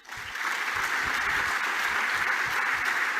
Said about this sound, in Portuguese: As pessoas deram palmas, ele respirou aí mais uma vez, as pessoas aplaudiram